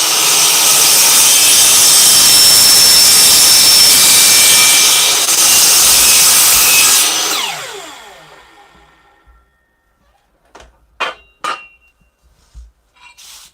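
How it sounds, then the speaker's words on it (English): Saw biting steadily through wood for about seven seconds, loud and close, then the cut ends and the noise fades out, followed by a few scattered knocks and handling sounds. "Hope you like saw noises."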